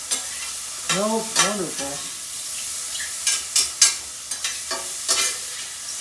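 Mushrooms frying in a pan give a steady soft sizzle, broken by scraping stir strokes, with a person speaking briefly over the cooking.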